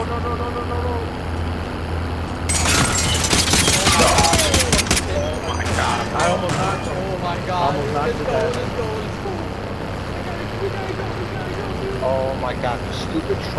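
Rapid bursts of automatic gunfire from a squad firing in the Warzone battle royale game, a dense volley for a few seconds then scattered shots, with vehicle engine rumble beneath and players talking over it.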